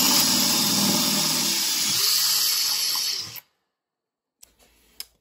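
A drill running in reverse rotation bores into metal on a Honda Transalp 650 motorcycle, giving a loud, steady, close whine with a broadband hiss that stops suddenly, followed by near silence and a couple of faint clicks.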